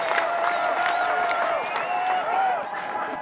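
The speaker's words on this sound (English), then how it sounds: "All my people, give yourselves a round of applause for being here today." Rally crowd clapping and cheering in a sustained, fairly loud burst, with shouting voices mixed into the dense applause for a few seconds.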